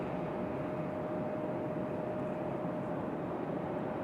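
American Airlines airliner at Raleigh-Durham International Airport, a steady broad distant roar of jet engines with a faint sustained tone, continuous and even throughout.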